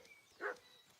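A dog in Kingdom Come Deliverance 2 gives a single short bark, fairly near but quiet, over a faint ambient game background with no talk.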